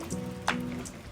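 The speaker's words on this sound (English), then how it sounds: "it has started raining on me" Rain falling and pattering softly on the ground and nearby surfaces outdoors, a faint steady hiss with one brief sharper drop or spatter.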